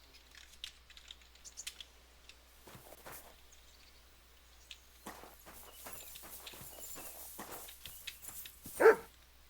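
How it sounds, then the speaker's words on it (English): A dog in the medieval role-playing game Kingdom Come: Deliverance II gives one loud bark near the end, after quiet footsteps and faint rustling. "Barking."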